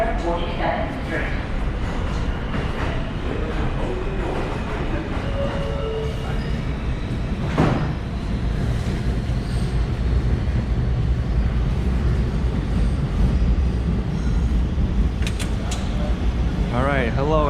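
A New York City subway N train rumbles steadily at a station, with rolling wheel noise, brief squeals and clanks, and a voice speaking over the din.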